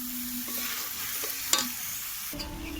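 Fresh small Ganges river fish sautéing in a pan, with a steady close sizzle and a few scraping stirs, one sharp clatter of the spatula midway, and no voices.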